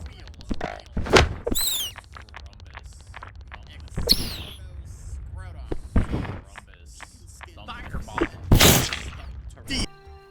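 In a Godot wizard video game a fireball spell is cast amid a string of sharp thunks, bursts and whooshing effects at irregular intervals, with a voice speaking between them.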